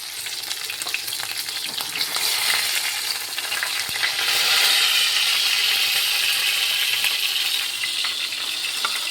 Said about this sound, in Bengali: এভাবে আমি পুরোটা মাছ ভেজে নেবো আগে